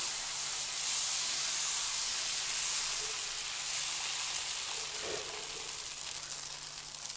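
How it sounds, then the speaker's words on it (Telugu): Dosa batter on a hot griddle gives off a continuous bright sizzling hiss, steady and fairly close, with a soft clink partway through. "పెనం పెట్టుకున్న తర్వాత దోశ వేసుకుందాం."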